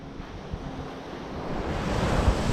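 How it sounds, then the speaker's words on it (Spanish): Sea waves break on the beach at Montepaone Lido in Calabria, a broad, rushing surf wash that swells toward the end, with wind buffeting the microphone and no voices. "Mira, ve, ahí están las olas, ¿ves?"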